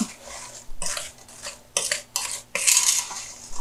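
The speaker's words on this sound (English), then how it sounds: "I'm gonna stir this up." Spoon stirring homemade cranberry sauce with nutmeg in a pot, a few scraping, clinking strokes against the metal in short bursts, close and moderately quiet.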